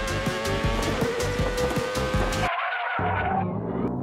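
Racing car tires skid and squeal loudly for a couple of seconds, a harsh screech with engine roar, then cut off abruptly into a quieter tail.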